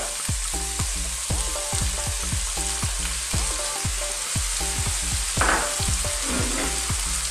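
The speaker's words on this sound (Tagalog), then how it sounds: "Lalagay na po natin ang suka o ang cayenne vinegar." Cane vinegar goes into a hot, sizzling pan of chicken adobo with long beans while a utensil clanks and scrapes in a steady stirring rhythm, with a brief rush of extra hiss midway. Close and continuous, with no talking.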